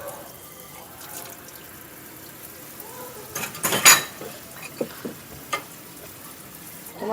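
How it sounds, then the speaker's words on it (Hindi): Dishes are washed at a kitchen sink, with a burst of running tap water in the middle followed by a few clinks and knocks of utensils, close and moderately loud with no talk. "अब मैं बर्तन धो रही हूँ।"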